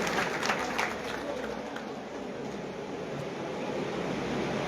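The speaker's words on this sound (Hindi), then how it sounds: "जोरदार तालियों के साथ स्वागत करने साहब की बात है" Steady applause from a crowd at a welcome during a Tiranga Yatra rally in Bhadra, a dense wash of clapping that holds at an even level throughout without any talking.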